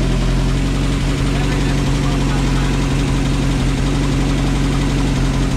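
A 1977 Rover P6 2.2TC engine on fast idle, a steady close mechanical hum with a low throb running evenly throughout, no voices over it.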